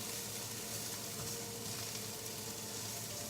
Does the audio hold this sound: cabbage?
yes